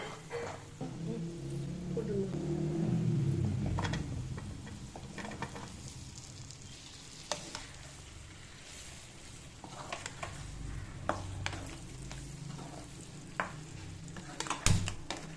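Boiled gooseberries tumble into hot oil and are sautéed, giving a brief swell of sizzling followed by soft, low frying and scattered spoon scrapes and taps close by.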